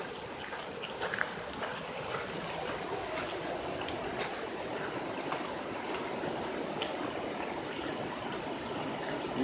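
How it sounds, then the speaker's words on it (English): Constant rushing water from the Whangarei waterfall heard faintly from some distance, a steady soft roar that fills the background without pause. "Can you hear the waterfall?"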